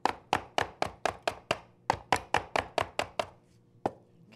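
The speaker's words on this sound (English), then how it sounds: "you just want to give this a little chop, not too much" Knife chopping very soft herb leaves on a board: a quick run of about fifteen crisp, close taps in a steady rhythm, a short pause, then one last tap.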